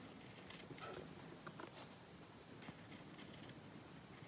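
Scissors snipping through the fabric batting filling for a mug rug base, a handful of soft, crisp cuts in small clusters, quiet and close with no voices.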